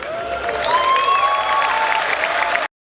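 Audience at a Star Citizen presentation breaking into sustained applause, dense clapping with some whistles and cheers, cutting off abruptly at the end.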